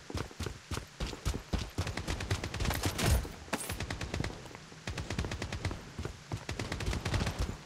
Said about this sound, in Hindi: साउंड आ रहा है, यहाँ पे फायर हो रही है।